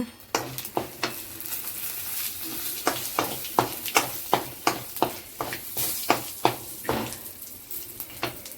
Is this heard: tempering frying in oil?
yes